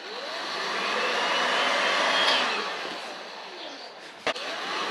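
Heat gun blowing hot air over Aliexpress vinyl wrap film, a steady airy whoosh that swells and eases as it moves around the piece, with one short sharp click near the end.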